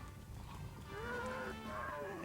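A cow in the Conker: Live and Reloaded video game lets out a low, drawn-out moo with a bending pitch over a constant background rumble, heard alone and fairly close.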